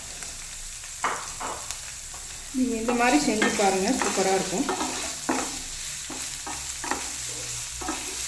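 Paneer masala with kasuri methi stirred and frying in a pan, with a soft continuous sizzle and scraping of a spoon, plus a few brief clatters against the pan.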